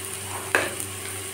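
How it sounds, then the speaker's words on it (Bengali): Onion paste fries in a pan with a soft, steady sizzle while a spoon stirs it, giving one clear scrape near the middle and fainter stirring after. "পেঁয়াজটা ভাজা হচ্ছে"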